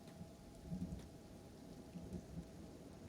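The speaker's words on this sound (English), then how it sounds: "you should be able to hear the rain and the thunder." Steady rain falls in the video game Kenshi, a soft continuous hiss with faint low rumbles of distant thunder, quiet and with no voices.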